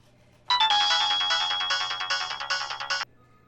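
A phone ringtone rings out during a call to a police commissioner, a loud electronic trilling pattern of repeated bursts lasting about two and a half seconds, alone and clear, stopping abruptly.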